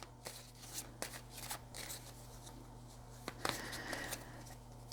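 A deck of 28 Lenormand cards is shuffled close up, giving quiet, repeated riffling and flicking sounds in short bursts with no talking.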